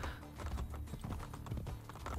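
Horse hooves clip-clop steadily under game music while a rider travels on horseback in Assassin's Creed Brotherhood, a steady rhythmic patter throughout.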